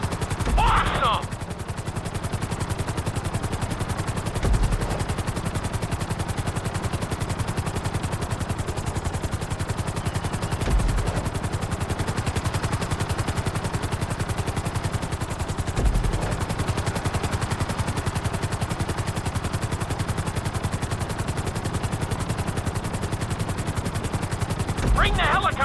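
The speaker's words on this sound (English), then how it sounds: "Bring the helicopter down gently onto the helipad." A helicopter in GTA 5's flight school drones with a steady, continuous rotor and engine hum throughout, accompanied by occasional brief thumps.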